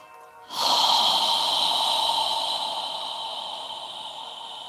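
A long, steady exhale through the mouth in yoga breathing, a close, breathy hiss that swells suddenly and then slowly fades over several seconds without talk.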